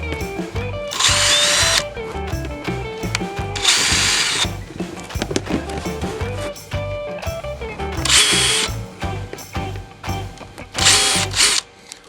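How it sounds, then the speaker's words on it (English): Power drill boring a pilot hole with a small bit for a quail feeder, several loud, close whirring bursts with ratcheting grind in between, starting and stopping repeatedly. "Grab a smaller drill bit and go ahead and make a pilot hole"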